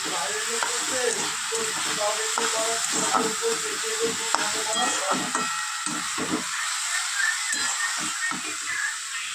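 Red amaranth greens fry in a pan and hiss steadily throughout, with repeated close stirring scrapes and taps as the spatula turns them over.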